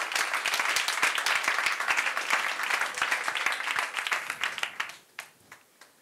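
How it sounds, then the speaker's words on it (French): An audience at an evening company event applauds in a dense, lively burst of clapping that thins out into a few scattered claps before fading. "Applaudissements pour Laura, s'il vous plaît."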